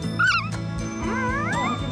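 A newborn puppy whines and yips in high, wavering cries close by while nestled against its mother, a guide dog living at Jirisan, with a few short bursts over a low rumble.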